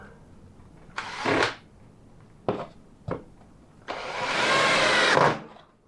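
A power driver whirs in short bursts, three brief ones and then a longer run, driving screws to secure a plywood cabinet part in a Peugeot Boxer campervan conversion. The sound is close, with quiet pauses between bursts.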